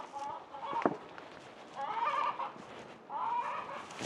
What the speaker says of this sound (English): Forgive my chicken.